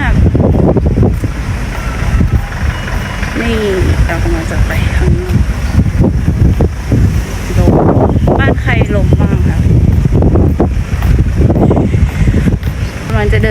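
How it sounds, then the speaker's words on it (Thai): Strong wind buffets the microphone outdoors with a constant loud roar and gusts, while someone talks over it as she walks toward a parked car. "ตอนนี้คือลมแรงมากเลยนะคะ"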